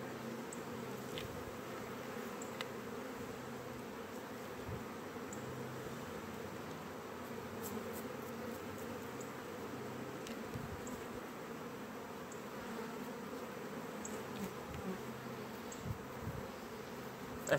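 Honey bees buzzing steadily at close range, a continuous droning hum with individual bees flitting past, no voices.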